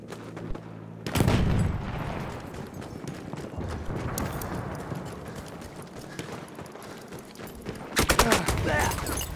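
Grenade explosions and bursts of gunfire in the video game Battlefield 1, with dense, loud crackling shots and booms running almost continuously, swelling again near the end.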